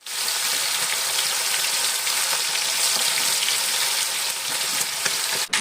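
Marinated chicken frying in a pan, a dense, steady, close sizzle and crackle of hot oil that continues unbroken throughout.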